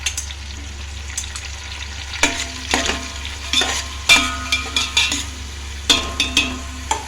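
Ingredients for coconut milk rice sizzle in a pan while a spoon scrapes and clinks against the metal in a quick series of stirring strokes, close up with no talking.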